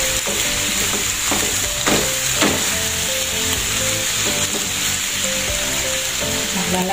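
Chopped squid sautéing in a pan: a continuous close sizzle of frying, with a spoon or spatula stirring and scraping at intervals underneath, fairly loud and without speech.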